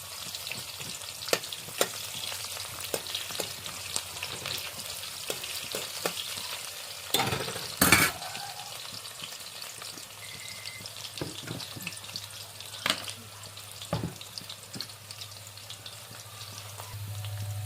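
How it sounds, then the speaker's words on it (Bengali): Raw onion frying in hot oil for a home-style desi chicken curry, a steady close sizzle running throughout with occasional stirring scrapes and one louder clatter midway, no voices. "কাঁচা পেঁয়াজটা আমি দিয়ে দেবো তেলে"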